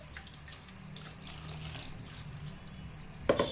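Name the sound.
pouring a little water into the mixer jar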